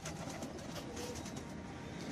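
A female Teddy pigeon gives soft, faint cooing against a noisy, muffled background.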